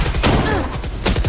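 Gunfire in a Valorant match, a quick burst of close, sharp shots under a commentator's excited talk.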